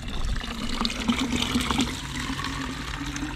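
Water trickles steadily into a small drinking bottle being refilled during a motorcycle trip along Portugal's N2 road, a close, continuous gurgling stream with no talking.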